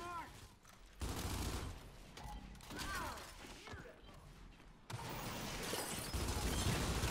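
Gunfire in Gears 5 ranked multiplayer: sharp, loud shots burst out in rapid clusters, some near and some farther off, mixed with mechanical clatter and short whooshing effects, while a player talks over the action.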